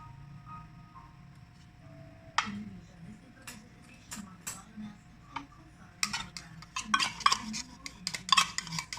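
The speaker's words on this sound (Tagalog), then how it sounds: "ihalo lang natin siya dyan" Fruit salad is stirred in a bowl, with scattered clicks and clinks of a utensil against the bowl that grow busier toward the end, over a faint low background hum.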